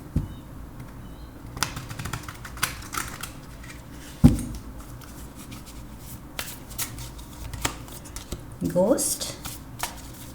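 Tarot cards being shuffled by hand for clarifier draws, giving a series of light irregular riffles and taps, with a single spoken word partway through and a soft flurry near the end.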